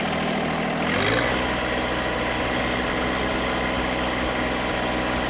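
A hydraulic system's engine idles at about 1,800 PSI and 125 degrees, a steady, loud low rumble with constant vibration that swells briefly near the start, then holds even throughout.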